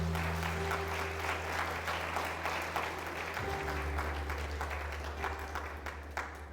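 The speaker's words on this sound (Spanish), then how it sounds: "¿Cuántos aplauden en nombre del Señor?" A church congregation applauding during a sermon, sustained crowd clapping at moderate volume over a low steady hum, with no speech.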